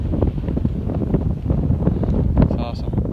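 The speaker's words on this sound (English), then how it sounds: "It's really windy up here." Heavy wind buffets the microphone with a low, rumbling roar on a mountain above Shelf Lake in Yellowstone, constant and close, with faint voices muffled underneath.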